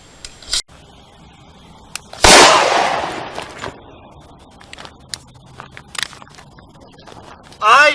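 A single sharp gunshot cracks loudly in a firearms news segment, followed by a decaying rush of noise, with scattered clicks and handling sounds around it.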